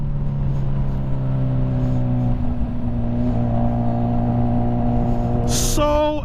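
Motorcycle engine on a ride in Michigan, a steady loud drone that climbs slightly, then a brief gear change near the end, with no talking.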